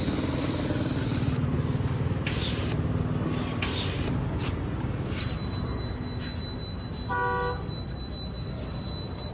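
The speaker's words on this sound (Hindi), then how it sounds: "हम लोग जियो के पेट्रोल पंप में खुद से हवा भर रहे हैं" Self-service air pump inflating the tyres of an Alto 800 at a Jio petrol pump beside a highway, loud hissing bursts of air in several spurts, followed by a short electronic beep and steady background traffic.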